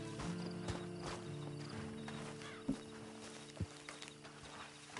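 Horse hooves clip-clopping at a slow walk in a video game, a few soft, irregular footfalls over a steady low hum of background ambience, fairly quiet and without talk.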